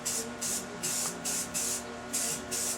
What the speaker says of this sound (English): Shake the can, spray it out, make sure you got, paint coming out.